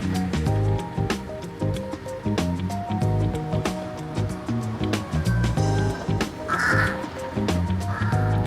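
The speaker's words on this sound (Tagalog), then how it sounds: "Ang daming itim na uwak dito." Repeated harsh black crow caws ring out in quick succession over a steady outdoor background in Bangkok, loud and close, with several birds calling.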